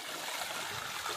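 Water gushes steadily from a farm pump outlet in a village, a close, continuous splashing rush that stays even and unbroken, with no voices.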